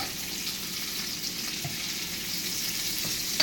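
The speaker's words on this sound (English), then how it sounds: "you're just going to let the salmon cook maybe for another 3 or 4 minutes" Atlantic salmon frying in a pan, giving a steady, even sizzle with soft crackles throughout, close by and moderately loud, with no talking.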